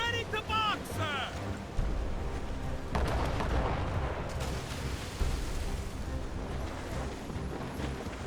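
Ship cannons fire in a naval battle in Assassin's Creed Rogue Remastered, heavy booms landing over roaring wind and sea, with shouted orders from the crew between the blasts.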